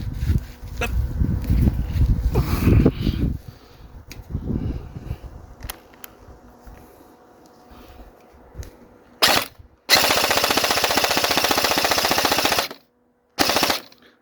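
An MP5SD gel blaster fires gel balls at targets, including a bottle, in loud automatic bursts: a short burst, then a sustained rattle of about three seconds, then another brief burst, after quieter earlier clatter and low handling noise.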